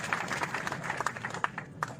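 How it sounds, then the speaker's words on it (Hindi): Scattered clapping from a crowd at an outdoor political rally, fairly faint and uneven, with a few sharper individual claps standing out through the steady patter. "ये नेता नगर की तालियां नहीं है, तालियों की गड़गड़ाहट।"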